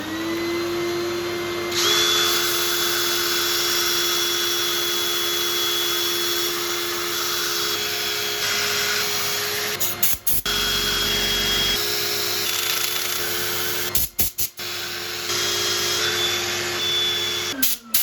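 A woodturning piece being sanded on a spinning lathe produces a steady, loud whine and abrasive hiss that runs almost unbroken, with a few brief dips and sharp clicks near the end.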